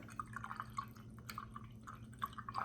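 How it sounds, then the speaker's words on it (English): A paintbrush swishes and rinses in a jar of water, giving soft, close, irregular drips and splashes at low volume, with no talking. "Then I'm gonna put it in my water jar."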